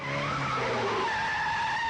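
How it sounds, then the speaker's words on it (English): A car slides around corners at the edge of traction, tires squealing steadily over a droning engine, loud and close with no voices. "Sliding the car around corners, just sort of on the edge of traction."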